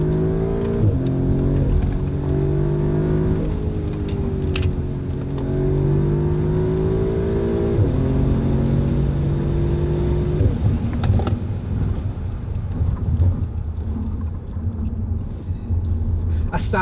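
Audi S3 Stage 1 with 360 bhp launching hard under launch control: a steady, loud engine drone rising through the revs with gear-change dips, heard from inside the cabin with people talking over it.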